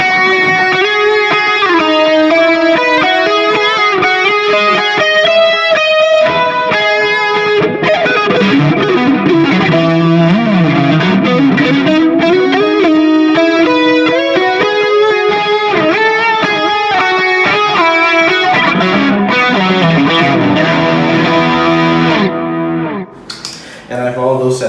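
Heavily effected electric guitar solo played through a pedalboard rig built by Goodwood Audio, distorted and chorused lead lines sustaining loudly and continuously for over twenty seconds before cutting off abruptly near the end.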